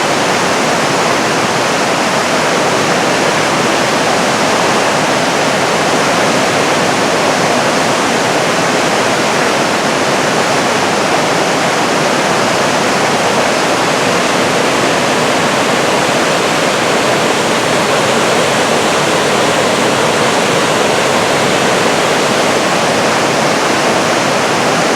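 Silver Falls waterfall and river in a small canyon at Mount Rainier, heard from near a footbridge as a loud, unbroken roar of rushing water that holds steady throughout.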